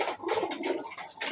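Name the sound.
pet pigeon cooing in cage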